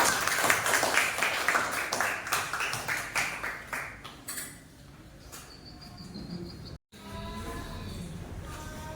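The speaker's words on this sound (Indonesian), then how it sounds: "Kita kasih aplaus untuk Andi." Classroom applause for a student named Andi: a burst of many hands clapping, loud and dense at first, thinning out and fading over a few seconds into quiet room noise with faint chatter.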